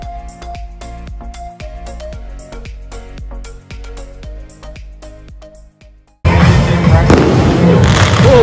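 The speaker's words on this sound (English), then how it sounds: "Oh, we got a little fireworks show here." Sharp fireworks pops and crackles from a small fireworks show at a Puerto Vallarta beach resort repeat in a fast rhythm, then a sudden loud burst of dense crackling noise fills the last couple of seconds.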